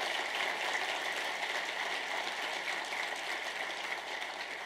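Sustained audience applause at a college football award event, a dense, steady wash of many hands clapping at a moderate distance that holds evenly throughout with no voices over it.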